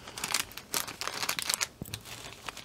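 A pre-packed plastic bag crinkles and rustles in bursts as a diamond painting kit is unbagged, fairly soft, close-up handling noise with short crackly pulses.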